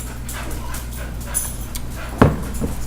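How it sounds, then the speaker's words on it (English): A pit bull gives a single short, sharp vocal burst near the end, clear above a steady low background hum, with faint sounds scattered before it. "it's a doggy! A wild doggy has appeared."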